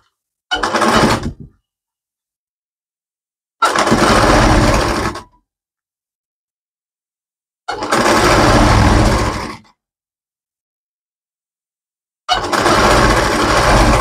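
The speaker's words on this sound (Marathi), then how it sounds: "दोन्ही एकत्र घ्या आणि असे स्टिच मारून घ्या" A sewing machine stitches fabric in four loud, close bursts of rapid mechanical whirring, each about one to two seconds long. Stretches of silence separate the bursts.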